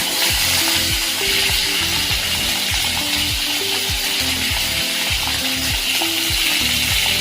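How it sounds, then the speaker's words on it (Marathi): Stuffed capsicum (shimla mirchi) fries in a pan with a loud, constant sizzle, and a steady repeating knock or rattle runs underneath it throughout. "आता घालूया आपण ही भरून ठेवलेली मिरची"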